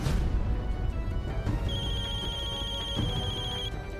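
A telephone rings steadily in a tense Hindi TV drama scene, a bright electronic ringtone sounding continuously and fairly loud over a low background rumble and music.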